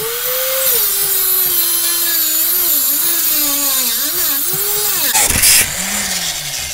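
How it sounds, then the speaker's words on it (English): An abrasive cutoff wheel grinds through a hardened gun lock, a loud sustained whine that wavers in pitch as the cut proceeds, with a brief harsh burst near the end as it breaks through. "We actually ate away quite a bit of that cutoff wheel."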